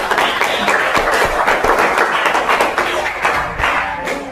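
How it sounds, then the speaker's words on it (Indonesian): A class of students claps hands in a dense, continuous burst of applause at close range, steady throughout with scattered louder slaps. "sebelumnya tepuk tangan buat ini."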